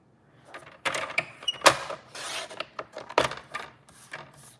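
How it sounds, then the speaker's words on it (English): A paper trimmer slices cardstock in a few quick, close rasping strokes with soft rubbing and clicks between, quiet and without talk. "I'm just using my paper trimmer here."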